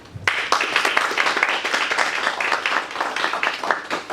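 An audience at a physics week lecture claps to welcome a speaker: dense, steady applause starting abruptly and holding at full strength for several seconds, close and alone with no voices.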